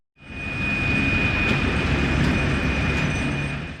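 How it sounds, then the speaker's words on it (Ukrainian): A diesel locomotive hauls a train loaded with metal on the Zaporizhstal steelworks railway. A loud, steady rolling rumble fades in quickly, with a sustained high whine and occasional metallic clanks above it. "Машиніст тепловоза Артур Кузьмін щоденно переміщує до 10 потягів із металом"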